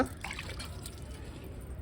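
Water trickling and splashing as a fish-cutting knife board is rinsed, a short, soft, close pouring sound with no talking.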